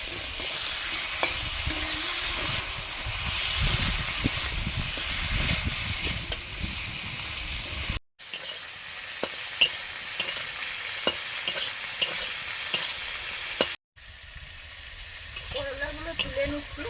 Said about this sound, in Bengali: এবারে আলু পেঁপেটা দিয়ে দিচ্ছি মশলা কষানোর পরে।